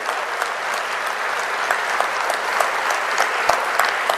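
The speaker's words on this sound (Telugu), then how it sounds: "వారిని అందరూ కూడా గట్టిగా చప్పట్లు కొట్టి మనస్ఫూర్తిగా అభినందిస్తే" An audience at a public function claps loudly and continuously, a dense sustained wash of many hands with no speech over it.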